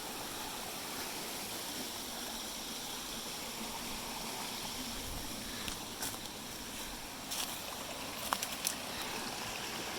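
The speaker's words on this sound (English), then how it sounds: "Up here is my favorite little pool area of the stream." A small stream flows steadily over a pool area on rural land, a continuous broadband rush of water with faint splashes and trickles toward the end, no talking.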